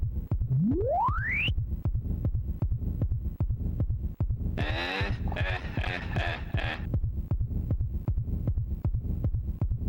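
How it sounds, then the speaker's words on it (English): Steady heartbeat pulse from the final battle in the Nintendo 64 game Bomberman Hero, thumping evenly throughout at close range, with a rising synth sweep near the start and a burst of bright buzzy tones partway through. "It's the freaking heartbeat sound."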